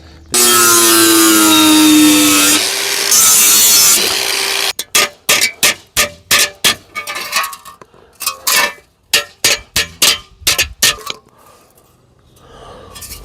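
Hand tools trimming junk parts on a rat rod, heard as a sustained sawing or grinding rasp for several seconds followed by a run of sharp, evenly spaced cutting strokes, close and fairly loud.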